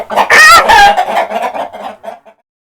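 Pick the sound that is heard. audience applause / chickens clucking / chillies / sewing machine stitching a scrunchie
chickens clucking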